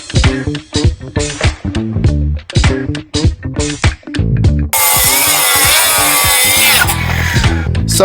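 A circular saw cuts a wooden stair stringer. Several seconds of knocking and handling come first, then the blade roars steadily and loudly through the board to the end of the cut.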